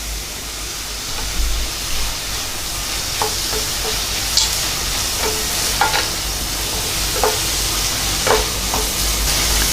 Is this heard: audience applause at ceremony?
no